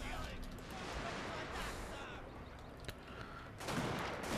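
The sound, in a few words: kneeling infantry volley fire in video game Total War Shogun 2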